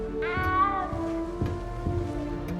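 A video-game cat gives a single drawn-out, tonal meow that rises and then falls, clear and close over a soft musical background, with no talk.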